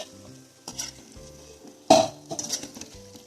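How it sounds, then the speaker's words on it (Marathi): Shankarpali, the sweet Diwali pastry, frying in hot oil with a soft steady sizzle broken by sharper bursts and stirring clinks of a utensil against the pan. "याच पद्धतीने बाकीचे शंकरपाळे तळून घेऊया"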